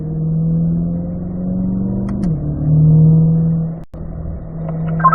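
A car on a race track pulls through fourth gear, its engine droning loud and close with a steady pitch, dipping briefly mid-way before a sharp cut-out and recovery.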